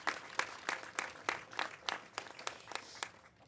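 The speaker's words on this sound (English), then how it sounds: "Let's give a round of applause for that." Audience applause at a Women's Equality Day event, sparse hand claps in an uneven rhythm rather than a dense roar, moderately close and fairly quiet, with no talking over it.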